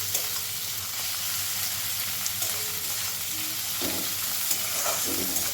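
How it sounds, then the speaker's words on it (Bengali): Salted shrimp frying with onions in a pan over a medium gas flame, a steady sizzle throughout with occasional clinks and scrapes of stirring, close and moderately loud, no talking. "এখন আমি এই পেঁয়াজের মধ্যে দিয়ে দেব লবণ মাখানো চিংড়ি মাছগুলো। চিংড়ি মাছগুলো একটু রং ধরা পর্যন্ত নাড়াচাড়া করব"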